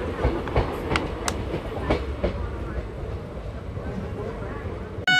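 Rhythmic clickety-clack of the Palnadu Superfast Express rolling along the rails, heard from on board with a steady rumble underneath and a person talking over it.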